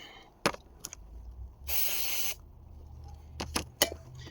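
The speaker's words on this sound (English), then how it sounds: "I'm just going to brake clean them over here on the side." Brake cleaner sprayed onto rear brake parts of an 8th-generation Honda Civic Si: one steady hissing burst of about a second, close and fairly quiet, set among a few sharp clicks and knocks from handling the parts.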